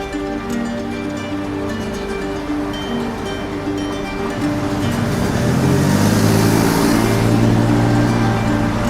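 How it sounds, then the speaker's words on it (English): Early-morning city traffic in San Jose, Costa Rica: a steady wash of passing cars with low engine rumble and tyre hiss, growing louder and denser toward the end, with no voices. "It was early in the morning and you could hear the cars going through the city."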